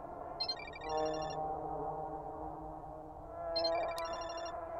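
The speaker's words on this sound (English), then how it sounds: "Asuka's ringtone." A phone ringtone in a horror video game chirps in two repeated electronic bursts, heard from a balcony at moderate volume over a steady ambient hum.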